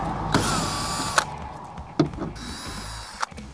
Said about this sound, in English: 10mm nuts undone